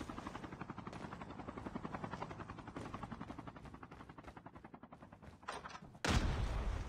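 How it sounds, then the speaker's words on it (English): A video game helicopter's rotor thuds in a steady rapid pulse alongside bursts of gunfire, ending with a loud sudden blast. "another helicopter on the way"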